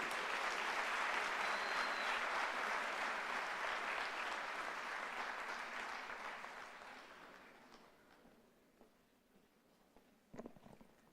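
Audience applause at a UNISA 150th anniversary celebration for Chancellor Mbeki, a broad sustained wash of clapping from a large crowd that slowly thins and fades away, ending with a few scattered claps.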